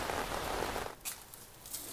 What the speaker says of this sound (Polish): deszcz dalej leje